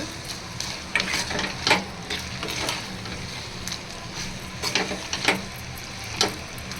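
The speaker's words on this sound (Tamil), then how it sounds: "தக்காளி, வெங்காயம், இஞ்சி பூண்டு, சிக்கன் இது எல்லாமே போட்டு நல்லா இப்படி பரட்டி விட்டுக்கோங்க." Chicken stir-fries with tomato, onion, ginger and garlic in a pan, a steady sizzle broken by repeated scraping and clanking strokes of a spoon, close up and without speech.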